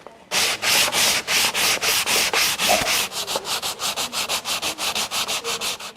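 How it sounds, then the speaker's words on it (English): Sanding a primed boat hull radius: fast, regular back-and-forth scrubbing strokes, loud and close, with the rhythm quickening partway through and no voices. "I'm about halfway through sanding back the new radius that I put on"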